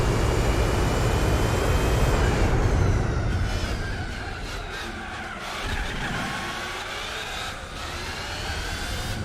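Race car in Gran Turismo 4 braking into a corner, with continuous loud engine drone, tire skid noise and downshifting, alone without talk.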